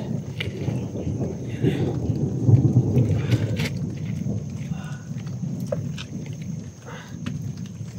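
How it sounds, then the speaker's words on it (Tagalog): Steady rain falling with low rumbling thunder, a continuous broad wash of noise that holds at a fairly even level through the whole stretch, with no one talking over it. "Yan, tuloy pa rin ang pagulan."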